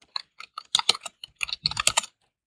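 Rapid typing on a computer keyboard while writing in MS Word, close and crisp, with irregular bursts of clicks and short pauses and no voices.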